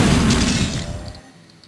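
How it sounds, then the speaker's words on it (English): A heavy explosion in the Shadow Warrior video game, a loud broadband blast with crackling debris that decays over about a second and a half, with no voices. "Alright, this calls for explosions."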